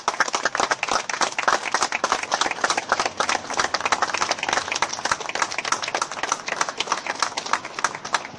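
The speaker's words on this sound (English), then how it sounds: "I'd like to all give a round of applause for Lee Rigby." A crowd claps and applauds steadily outdoors at a memorial gathering, a dense, continuous patter of many hands throughout.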